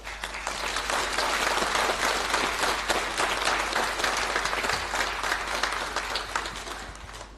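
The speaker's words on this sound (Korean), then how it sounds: "우리 목사님 나오실 때 박수로 환영해 주시면 감사하겠습니다." A church congregation at a Sunday service in Argentina applauds to welcome the pastor, with dense, steady clapping that fills the room loudly from start to finish.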